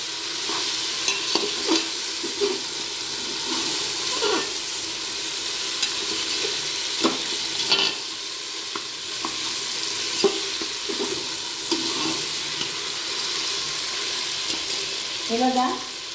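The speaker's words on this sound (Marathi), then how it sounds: "हे वाटाणे पण टाकून घेऊ. आणि छान एकजीव करून घेऊ." Peas are stirred into a vegetable mixture frying in a pan, with steady sizzling and intermittent scraping stirs close by, under faint background talk.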